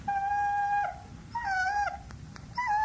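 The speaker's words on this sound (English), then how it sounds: "It was a dog whining and crying." A dog whines and cries in three drawn-out, wavering whimpers that bend in pitch, close and clear, with short gaps between them and no talk.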